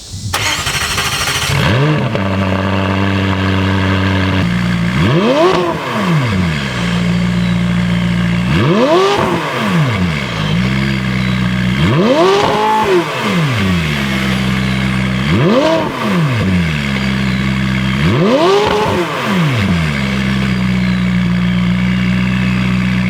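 A McLaren 675LT engine revs hard in five rising and falling bursts over a steady loud idle, close and powerful.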